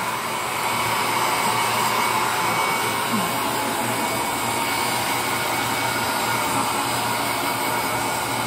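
A hair dryer blows steadily and close by, a constant loud whooshing hum that starts almost at once and holds unchanged throughout.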